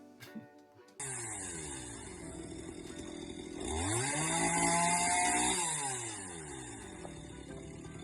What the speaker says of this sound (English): as you can see from my amazing chainsaw abilities here